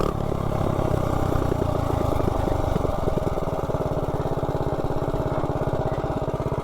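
A Predator Ghost minibike engine fitted with a stage 2 Fire 265 cam and a PC carb runs loud and close for the whole stretch, its steady rapid putter firming into a quicker, tighter beat partway through with no talk.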